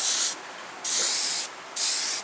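An airbrush spraying paint, three close bursts of sharp hissing air, each about half a second long, separated by brief quiet gaps.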